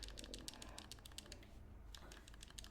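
Rapid mouse or keyboard clicking during an online NBA 2K26 game, a steady run of sharp ticks that pause briefly then resume, close and fairly quiet over a low background hum.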